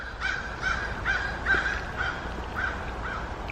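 Crows caw outdoors at a steady rhythm, repeated harsh calls at moderate distance over a constant outdoor background hiss.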